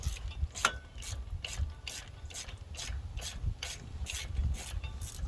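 A ratchet wrench works on an 18 mm tie rod bolt on a Chevy Tahoe front end, giving a quick series of about a dozen regular clicking strokes close up with no talking.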